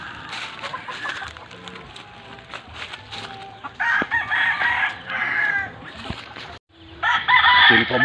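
A rooster crows nearby in several loud, drawn-out calls, the strongest toward the end, with people talking intermittently in the background.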